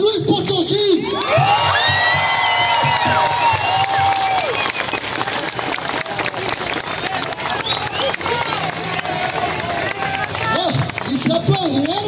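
A crowd in San Luis Potosí applauds and cheers before a wrestling match, with loud shouts and whoops over continuous dense clapping, close and sustained, and voices rising through the noise.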